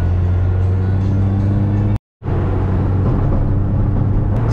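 A rally car's engine hums steadily at idle with a droning low tone, cuts out briefly, then returns as a louder rough rumble as the car pulls away, close up and without talk.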